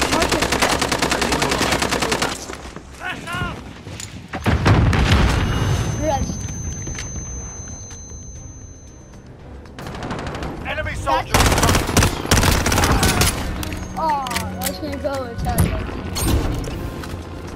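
Rapid automatic gunfire and booming shots in Call of Duty Warzone, CX-9 and OTs-9 weapons in play, loud bursts of machine-gun fire and scattered single shots with in-game voice callouts mixed in.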